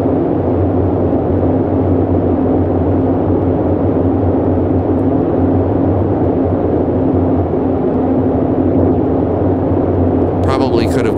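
Steady droning hum of a Boeing 247D's engines in flight within a flight simulator game, loud and unbroken, with a constant low tonal rumble and a voice talking over it.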